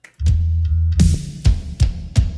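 A full drum kit, mixed through a drum bus in a church sound setup, plays a short groove, with punchy low kicks and sharp snare cracks landing in a steady rhythm, close and loud.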